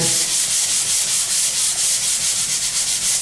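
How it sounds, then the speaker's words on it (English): Steady, continuous sanding of drywall joint compound around a thermostat, a dense close scratchy rasp with even strokes, no voices. "I can see where I have to sand a little bit extra and blend it in."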